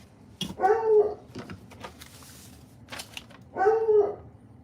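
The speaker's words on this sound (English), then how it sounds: "I know Coco's barks pretty well." A dog barks twice indoors, each a short burst of two or three loud yaps about three seconds apart, with a quiet room between.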